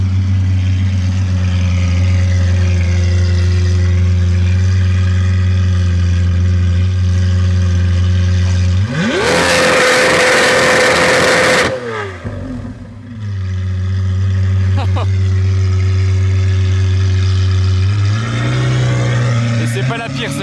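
Cars accelerating, one fitted with a Gintani exhaust: a loud close engine drone with a roaring surge in the middle, then a brief drop and the engine building again, with talk over it.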